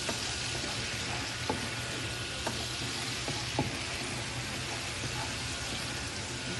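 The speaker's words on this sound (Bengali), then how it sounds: "ভালো করে মশলাটা একটু কষিয়ে নিচ্ছি" Spice paste with chopped green chillies being sautéed in a pan over low-to-medium heat for a hilsa and eggplant curry, a constant dense sizzle with a few soft stirring knocks, close and even.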